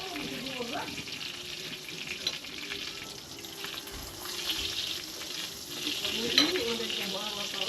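A malunggay soup made with Sprite instead of water sizzles and bubbles in the pan while being stirred, a steady close frying hiss with occasional scrapes and clinks, and a voice speaking faintly at moments.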